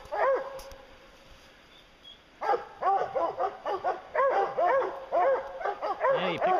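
Hunting dogs bay and yelp excitedly at close range after a quiet start, their overlapping barks coming in a rapid, uneven burst of loud calls.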